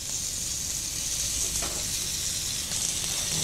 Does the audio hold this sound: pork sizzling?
yes